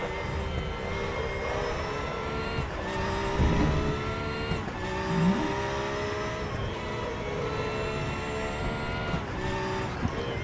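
A racing car engine in a racing video game drones steadily and repeatedly rises in pitch as the throttle opens, with brief dips and surges of revving, close and continuous with no talk.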